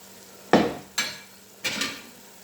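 Curry powder, mixed spice, coriander and salt are stirred and fried in a pot for goat meat biryani: three separate scraping, sizzling strokes over a quiet background.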